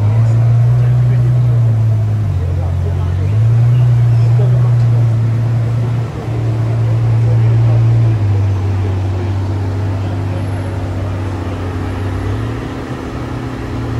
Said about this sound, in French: Le petit start-up de la Ferrari qui fait plaisir